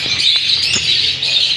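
Soft calls from an expensive mutation of pied dove in an aviary of breeding pairs, set over steady high chirping from other caged birds.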